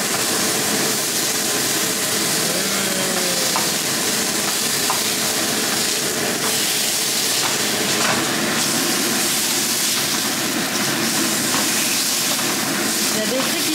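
Food frying in a very hot pan seasoned with pepper, a steady loud sizzle and hiss lasting throughout, with occasional stirring scrapes and faint talking in the background.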